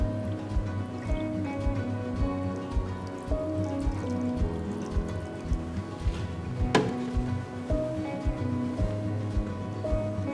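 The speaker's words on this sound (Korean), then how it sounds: "그래서 이 국물을 부어주세요." Broth pours through a wet cheesecloth in a steady close trickle with small drips, plus a single sharp clink of a utensil or container partway through.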